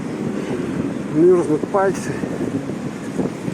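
Strong, cold wind in Yakutsk at the end of April, with snow, rumbles steadily against the microphone while someone talks over it in short phrases.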